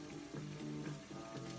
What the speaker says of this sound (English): Just gonna add a little oil because it's getting kind of dry in the bottom of that pan.